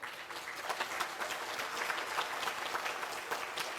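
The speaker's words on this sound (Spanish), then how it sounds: "Demos un fuerte aplauso, queridos chicos y chicas, a nuestro historiador Galito García" An audience at a talk and exhibition event applauds a visiting historian, a steady, dense wash of many hands clapping that holds evenly throughout at moderate distance.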